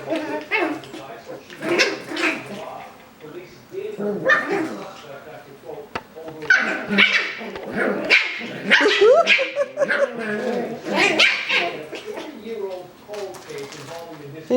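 A Coton de Tulear puppy barks and yips in repeated sharp bursts, close and loud indoors, with people talking and cooing over the barking throughout.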